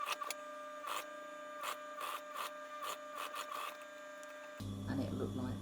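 A sewing machine top stitches a seam on a homemade fabric face mask, a steady mechanical whir with rhythmic clicks and bursts, close and fairly quiet, shifting to a louder, lower running tone near the end.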